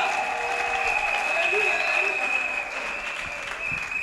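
A church congregation at a Sunday service applauds steadily, dense clapping with a held musical tone beneath and voices mingled in.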